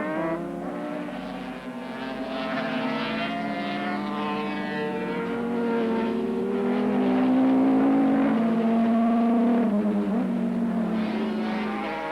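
Racing motorcycles, among them a Yamaha 750, howl past at Oran Park during a 1982 Swann Series race. A loud, sustained engine whine holds throughout, its pitch climbing and shifting as the bikes pass close by.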